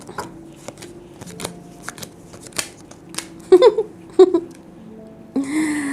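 A few soft card riffles and taps close by, intermittent and fairly quiet, ending with a brief louder shuffle burst.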